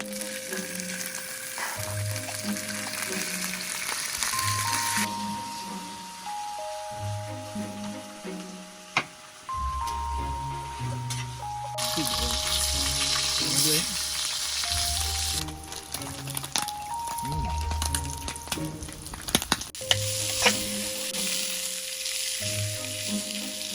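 Food frying outdoors, a steady crackling sizzle with stirring clatter and occasional sharp knocks of utensils, close and moderately loud throughout with no talking.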